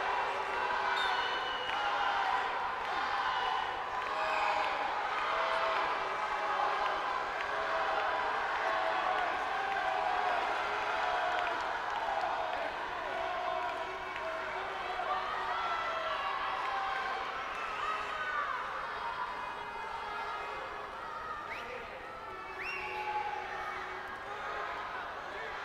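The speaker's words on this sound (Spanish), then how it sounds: "Mira cómo aplaude la grada." Spectators in the stands of a Leonese wrestling team league final applaud and cheer in a sustained, fairly loud wash of clapping and crowd noise, while a commentator talks continuously over it.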